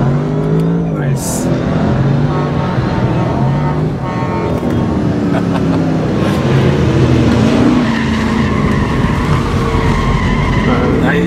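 A Mercedes car at a Mercedes-Benz meet on the damp tarmac of Berlin Tempelhof airfield spins its wheels, its tires squealing steadily over a loud revving engine for the whole stretch, with voices talking over it.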